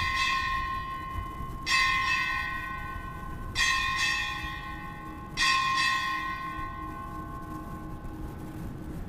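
Ship's bell struck at a change of command ceremony, ringing three clear strikes at even spacing, each ringing out and decaying over a steady background hum, with no talk.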